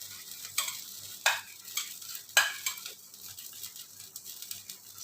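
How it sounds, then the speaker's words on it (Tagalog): Chili and radish go into a pot of sinigang na bangus, a Filipino milkfish soup, with sizzling and sharp stirring scrapes and clinks of a utensil against the pot, close and clear, with no talk. "So, ilagay natin una yung ating sili, yung ating labanos."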